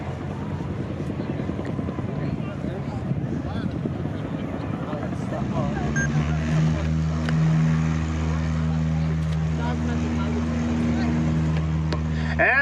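Light aircraft engines, including a 2013 Cub Crafters SS, idle and rumble steadily at a runway start line for a STOL drag race, building to a louder sustained drone with strong harmonic tones partway through, under wind and ambient noise.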